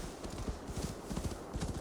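A horse's hooves clip-clop in a steady trotting rhythm in Assassin's Creed Valhalla, distinct thuds at moderate volume over a soft ambient wash of wind and background.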